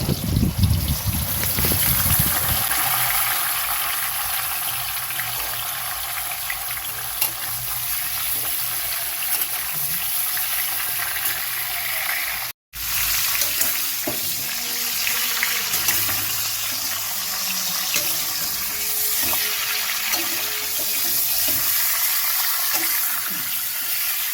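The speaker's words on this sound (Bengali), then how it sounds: "তারপরে আমগুলো দিয়ে বেশ ভালোভাবে নাড়াচাড়া করে নিতে হবে" Mango pieces are stirred and fried in a pan after a five-spice tempering, making a steady broad sizzling hiss with faint stirring scrapes, briefly cut off midway before resuming.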